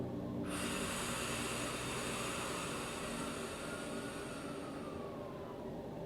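A long, slow exhale during a Kundalini Yoga breathing exercise, a steady breathy rush that starts abruptly and holds evenly for several seconds before fading, heard close and alone.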